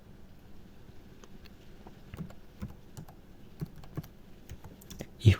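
Soft, rapid keystrokes tapped out on a computer keyboard while a password goes in, an uneven run of light clicks close by, ending on one louder key press.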